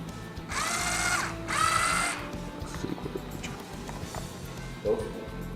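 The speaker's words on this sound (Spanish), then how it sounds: "localizar los tornillos que vamos a soltar y ubicar un respectivo destornillador para retirarlos" A handheld power screwdriver drives out small laptop screws in two loud whirring bursts, each lasting about a second, followed by quieter clicks and handling of parts, with a faint voice in the background.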